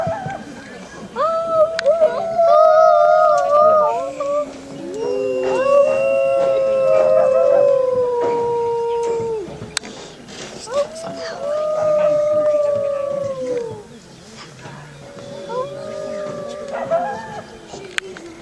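Long, wavering wolf howls rise and fall in several drawn-out calls at night in a wolf park, overlapping at times, with short pauses between them and a voice nearby.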